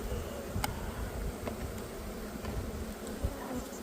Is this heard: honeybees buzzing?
yes